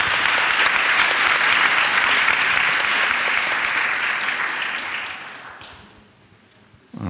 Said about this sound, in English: I would like to ask you for a round of applause for yourself